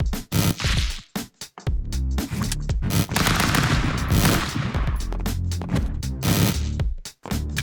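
Dense, rapid machine-gun fire from a video game battle, with bursts of rattling shots running almost continuously, loud and close, with a few brief pauses between bursts.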